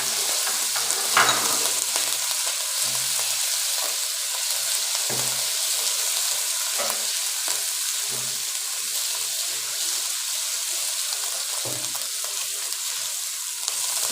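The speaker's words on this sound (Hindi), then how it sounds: "इसमें जाएगा अदरक लहसुन का पेस्ट," Ginger garlic paste frying in two tablespoons of hot cooking oil in a pan for chicken spring rolls, giving a continuous loud hiss and crackle with occasional stirring scrapes throughout, no talking.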